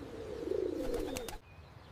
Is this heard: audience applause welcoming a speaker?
no